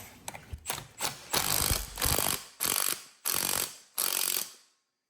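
Ratchet wrench torquing a bolt on a 168F Chinese diesel engine: a few quick clicks, then five loud, evenly spaced bursts of rapid ratcheting, close and alone.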